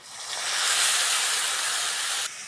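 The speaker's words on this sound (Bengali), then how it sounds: "পেঁয়াজটা হালকা করে ভেজে নিয়েছি এবার অল্প করে জল দিয়ে দেবো" A splash of water hitting hot oil and lightly fried onions in a pan, bursting into a loud, close steamy hiss that holds for about two seconds before dropping off abruptly.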